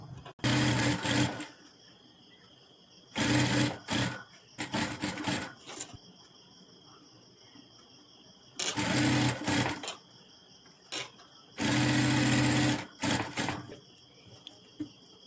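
A sewing machine stitches princess-cut blouse pieces together in several fast, loud bursts. Long runs alternate with short quick ones, separated by quiet pauses.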